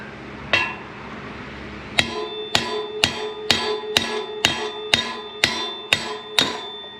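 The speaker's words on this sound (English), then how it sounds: "Now you take a big ass hammer and you wail on it." One sharp metallic strike, then a pause and nine heavy hammer blows on a Harley-Davidson Softail Timken wheel bearing race, in a steady rhythm, each ringing briefly against metal, loud and close.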